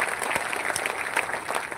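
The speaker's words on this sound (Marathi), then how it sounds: "आपण सर्वांनी टाळ्या वाजवून" Audience applause at a political rally in Nimgaon Ketki, a steady dense burst of clapping filling the space without pause.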